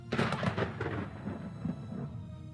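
A rolling roar of thunder with a sharp onset that swells, then slowly rumbles and fades over a couple of seconds, deep and heavy with no voices.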